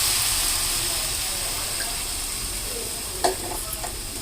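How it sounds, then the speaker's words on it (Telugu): Water goes into wheat rava fried in oil in a cooking pot, setting off a loud, continuous sizzling hiss with a few light knocks near the end. "4 నీళ్ళు పోసుకున్నాం కదా"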